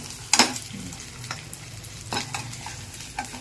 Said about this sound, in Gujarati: જુઓ આ પનીર તેલમાં થાય છે. આ વઘાર મૂક્યું છે.